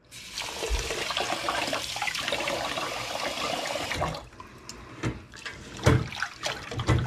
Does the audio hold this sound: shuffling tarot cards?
no